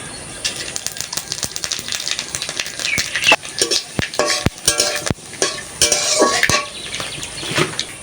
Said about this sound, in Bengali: তেলের ভিতরে আর একটু তেল দিয়ে দেবো, শুকনো লঙ্কা দিয়ে দেবো, দুটো তেজপাতা ছিঁড়ে দিয়ে দিলাম